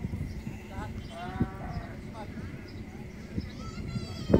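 Fat-tailed dumba sheep bleating at a busy livestock market, a few short wavering calls rising over a dense background of crowd chatter and nearby voices.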